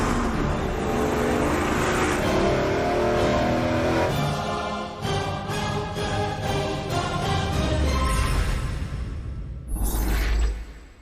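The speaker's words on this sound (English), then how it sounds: "that is a big block Ford, the very first 385 series engine to appear on Engine Masters" A big block Ford 385 series engine runs loud and close, repeatedly revving up and falling back in rising and dropping surges, with a final sharp burst of throttle near the end.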